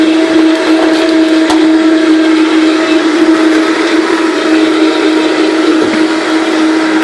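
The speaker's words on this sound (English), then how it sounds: "So I'll add a little bit more ice in as I blend, just to keep it chill." A Vitamix blender runs at high speed blending juice with ice, giving a loud, steady whirring roar with a constant motor tone throughout and no pauses.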